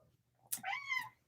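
An indoor-outdoor pet cat gives one short, clear meow, quiet and close, preceded by a faint click against a low background hum.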